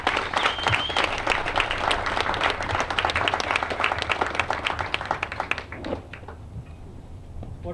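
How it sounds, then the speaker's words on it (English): Loud, sustained applause from the crowd at a community college graduation ceremony, many hands clapping together before thinning out and fading toward the end. "let's thank David with a great round of applause"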